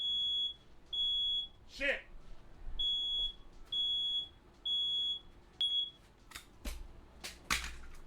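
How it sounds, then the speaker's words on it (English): A smoke alarm sounds a run of sharp, evenly spaced high beeps, with a brief spoken exclamation and a few clicks and knocks between them. "Good news is that wasn't the CO meter, that was a smoke alarm."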